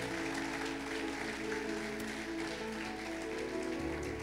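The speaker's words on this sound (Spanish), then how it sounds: "Alguien le puede dar un fuerte aplauso a nuestro Señor." A church congregation at a conference service applauds steadily and continuously, a broad wash of clapping heard at some distance, with faint voices mixed in.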